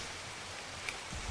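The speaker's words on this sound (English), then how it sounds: "It's just really poorly communicated that it's rain." Rain falls in the video game Monster Hunter Freedom Unite as a faint, even, hissing wash, steady for just over a second with no talking.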